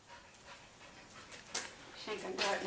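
A dog pants and whimpers nearby, quiet breaths building to a couple of sharper whines toward the end, with a voice faintly in the background.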